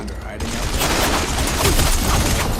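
Sustained volleys of gunfire in the video game Horizon Forbidden West, dense rapid shots going on throughout and loud, with voices mixed into the firing.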